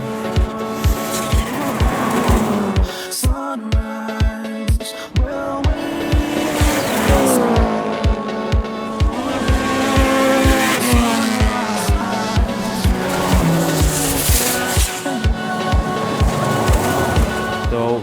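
Cars and jeeps, including Subaru Foresters, drag racing at an event, with loud engines revving and shifting repeatedly through rising gears, tires squealing and cars passing close by over a steady roar.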